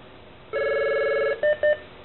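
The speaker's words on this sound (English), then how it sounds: "Yeah, that is my phone ringing" A mobile phone rings nearby: a steady electronic ring tone sounds for under a second, followed by two short beeps, with no talking over it.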